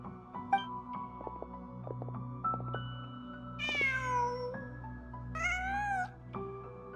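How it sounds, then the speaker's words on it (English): A cat in the video game Genshin Impact gives two clear, drawn-out meows over a soft, sustained musical background, each call rising and bending in pitch. "Just a cat."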